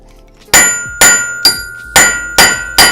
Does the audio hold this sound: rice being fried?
no